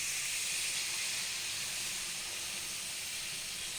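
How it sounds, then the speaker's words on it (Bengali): Water poured into a pan of frying soya chunks masala gives a steady, loud hiss of steam that holds evenly throughout with no talking. "এবার আমি জল অ্যাড করে দেবো"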